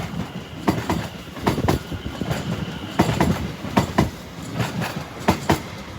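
An Avanti West Coast Class 390 Pendolino passes through snow near London Euston, its wheels beating out a loud, rhythmic clickety-clack of rail joints over a rushing roar.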